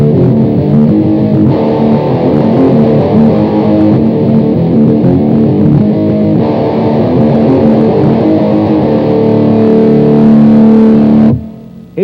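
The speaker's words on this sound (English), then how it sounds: "The DS2 Turbo Distortion is a distortion pedal with 2 different sounds, distortion and turbo." Electric guitar played through a BOSS DS-2 Turbo Distortion pedal in turbo mode, loud, saturated sustained chords and riffs that ring continuously and cut off abruptly at the end.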